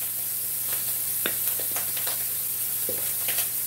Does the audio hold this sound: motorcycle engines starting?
no